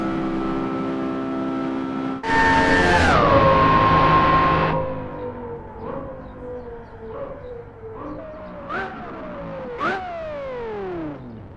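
Porsche Carrera GT supercar bursts into a loud, wailing acceleration, then its engine note winds steadily down under braking, ending in a few brief pulsing blips as ABS engages.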